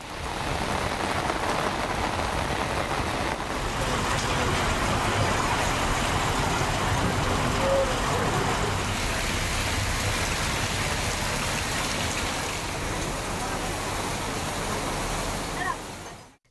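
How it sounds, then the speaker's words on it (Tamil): Heavy rain pouring onto roads in Palacode, Dharmapuri district, Tamil Nadu, after a hot spell: a dense, steady hiss of downpour filling the whole stretch, close and unbroken, with a faint distant vehicle. "தருமபுரி மாவட்டம் பாலக்கோட்டில் கடந்த சில நாட்களாக 100 டிகிரி ஃபாரன்ஹீட்டை தாண்டி வெயில் சுட்டரித்த நிலையில் கனமழை பெய்துள்ளது."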